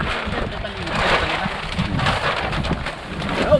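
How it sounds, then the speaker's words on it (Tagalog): Steady heavy rain roars throughout in the Philippine countryside, a dense broadband wash with gusty swells and low rumbling from wind buffeting the microphone. "Dahil medyo malakas na yung ulan"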